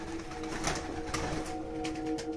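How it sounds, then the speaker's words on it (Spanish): Pigeons coo inside an abandoned house, soft repeated throaty calls close by, over a steady low hum in the room. "Ya están las palomas que me asustan."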